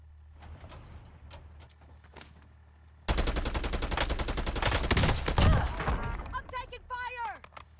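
Rapid bursts of automatic gunfire in Call of Duty: Warzone erupt suddenly and keep rattling loudly, with voices speaking underneath and chirpy game sounds near the end.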